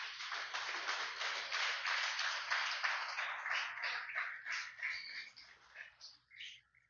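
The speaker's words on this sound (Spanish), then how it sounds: "Déselo fuerte el aplauso, aleluya." Church congregation clapping together in a dense, steady burst of applause that fades out over several seconds, with voices faintly underneath.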